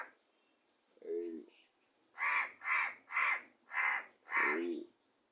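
Crows caw outdoors, one lower call followed after a pause by a run of five loud, harsh caws in a regular rhythm, fairly close and clear against a quiet background.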